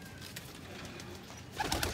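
A female Ferozpuri pigeon coos softly and close by, a low murmuring call that swells louder toward the end over a faint background hum.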